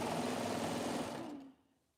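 A sewing machine runs at a steady fast whir, then stops abruptly near the end, leaving quiet.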